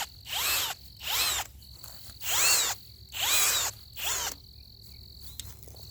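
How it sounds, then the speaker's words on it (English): A power drill drills holes in five short bursts of about half a second each, evenly spaced with brief pauses, close and loud with no talking. "So we got to drill 2 more holes."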